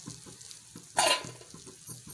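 Masala powder being stirred into uggani frying in a pan gives a soft sizzle with rhythmic scraping strokes and one brief louder scrape midway, close and short.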